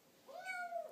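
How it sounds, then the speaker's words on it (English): A new kitten gives a single short rising-and-falling meow, close and fairly soft, alone in a quiet room. "There's the kitten."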